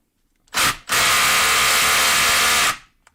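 A DeWalt or Milwaukee impact driver whirs loudly in two close-up bursts, a short quarter-second spin followed by a longer two-second run that cuts off abruptly.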